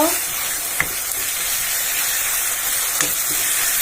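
Taro and chickpeas fry in a pan with a constant close sizzle and hiss, broken by a couple of sharp utensil taps against the pan, with no clear talking.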